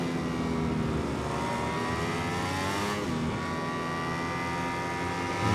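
A racing motorcycle in MotoGP 21 accelerates with a steady, high, rising engine whine that holds throughout, loud and continuous, a brief shift in pitch near the middle and no talk over it.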